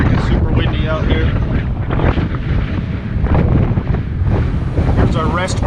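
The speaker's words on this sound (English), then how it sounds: "it's freaking super windy out here" Strong wind gusts buffet the microphone outdoors beside a Case IH 9370 tractor, a loud, steady broadband roar filling the whole clip with voices faintly mixed in.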